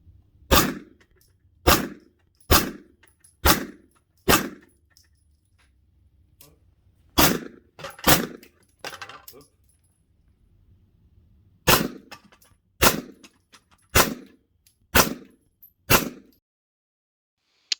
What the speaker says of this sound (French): Ensuite, on va passer donc au 9 mm avec le Stribog.